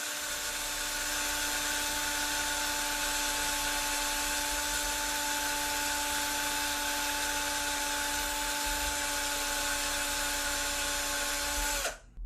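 A reamer in a power drill bores out a 3D printer extruder part to size, likely for TPU filament on a Tenlog D3, giving a steady high-pitched whine that runs unbroken for about twelve seconds and cuts off at the end, with no talk.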